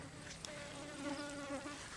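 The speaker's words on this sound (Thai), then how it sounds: "จุดแมงวันตอม" Flies buzz steadily around at close range, a faint continuous droning hum with no voices.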